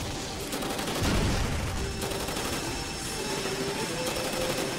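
Gunfire in the online game FOnline: Ashes of Phoenix, a steady stream of overlapping shots and machine-gun chatter in a noisy battle, sustained and fairly distant throughout.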